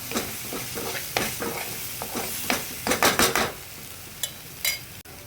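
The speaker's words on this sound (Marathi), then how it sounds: "मी हा हिंग टाकलेला आहे थोडा. तो देखील छान परतून घ्यायचा याच्यात." Asafoetida sautéed in a pan for gram greens gives a soft, steady sizzle. A spoon scrapes and clatters against the pan in quick, irregular strokes, close and clear, with no talking.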